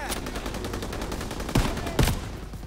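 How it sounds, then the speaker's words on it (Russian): Rapid gunfire rattles continuously in Call of Duty WW2, a close automatic burst with two heavier, louder shots standing out near the end. "Я стреляю через тебя."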